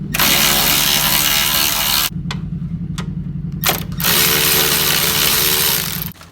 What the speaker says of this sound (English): I'm going to pop the grill off so we can get to the mounting bolts on both headlights.